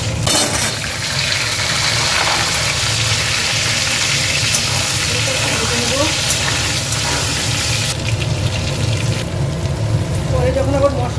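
Dried chilli, whole cumin seeds, cinnamon and cardamom frying in hot oil, a steady, moderately loud sizzle running throughout beneath someone talking.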